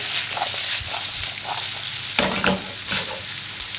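Potatoes fry in butter and oil in a non-stick pan, giving a loud, steady sizzle with scraping stirs as they are kept moving, and no talking.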